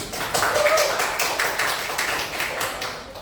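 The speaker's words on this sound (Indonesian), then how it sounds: "Kasih aplaus dong buat teman-teman" A classroom of students applauds their classmates after a group presentation, with a brief burst of scattered claps and some voices mixed in.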